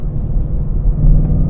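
Deep, loud V8 engine and exhaust rumble from a 2019 Ford Mustang Bullitt, a brief steady low throb heard up close with no talk.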